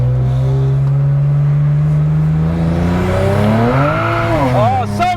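A BMW with an N54 engine and upgraded turbos launches hard with heavy wheel spin, the engine droning and then revving sharply upward with rising, wavering tones, loud and close, while a voice speaks underneath.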